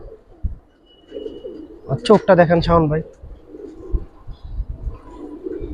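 Silver Giribaz pigeons cooing in low soft rolls at a dealer's loft, with someone speaking briefly over them in the middle.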